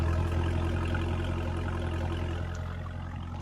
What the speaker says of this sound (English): Ooh, listen to that sound. Listen to that exhaust.